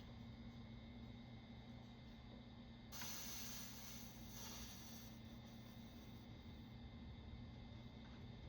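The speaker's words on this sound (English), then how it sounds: "Get some steam down in the wood." Steam hisses on the wet wooden fretboard of a vintage Fender Telecaster during a re-fret, a sudden soft spray that starts partway in and fades over a couple of seconds above a steady low hum, with no voices.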